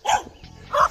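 Dogs at a remote mountain farmhouse bark twice, two short sharp barks close by with a brief quiet gap between them.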